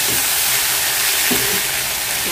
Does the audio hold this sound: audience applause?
no